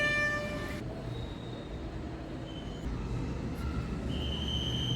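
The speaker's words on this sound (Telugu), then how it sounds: "అదిగోండి ఇండియన్ రైల్వే శబ్దాలు" An Indian Railways train rumbles steadily along the tracks with a continuous low roar, a brief horn-like tone at the start and faint high squeals of wheels.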